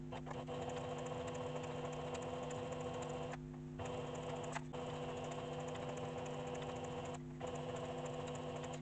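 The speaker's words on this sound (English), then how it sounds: "I'm going to press my presser foot real slowly and hem my piece here" A Singer One Plus sewing machine hems fabric at a very slow speed, giving a steady close mechanical whir with faint rhythmic clicking that halts briefly three times.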